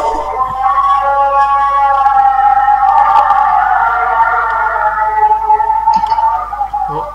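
An Islamic call to prayer (adhan) drifts in from the background behind gameplay: a single wavering, melismatic voice sustained and gliding over several seconds, moderately loud with a steady low hum underneath.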